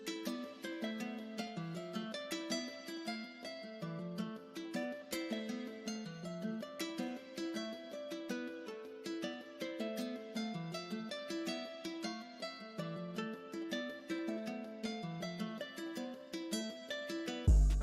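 Finished melody on an Ilya Efimov nylon-string guitar, a steady flow of plucked, harmonically rich notes with effects, playing continuously and evenly loud throughout with no voices.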